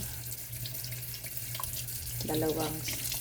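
Tap water runs steadily into a sink while yellowfin tuna pieces are rinsed, with water splashing more strongly toward the end, close by.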